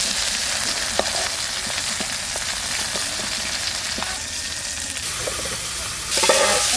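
Pieces of koi fish fry in a pan with a steady, loud sizzle throughout, broken by occasional light taps and stirring clinks, and a brief surge of hissing near the end.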